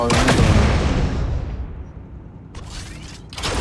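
A grenade explodes in PUBG Mobile with a loud, booming blast that rolls off into a long fading rumble, followed by short mechanical clatters near the end.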